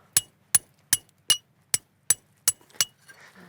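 Eight sharp metallic taps at a steady rhythm, about every 0.4 seconds, as a chisel strikes an oyster shell to pry it open, close and clear, followed by faint shuffling.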